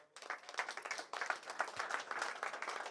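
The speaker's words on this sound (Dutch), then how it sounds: "graag een eh, applausje voor eh, beide trainers" Applause from an audience for the two football trainers of DVS'33 Ermelo and vv Staphorst, a dense, steady patter of many hands clapping for about three seconds at moderate distance.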